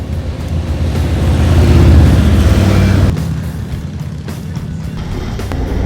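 Motorcycles cruising the Ormond Loop during Bike Week produce a loud, steady engine rumble that swells over the first three seconds, then settles into a continuous, slightly quieter drone.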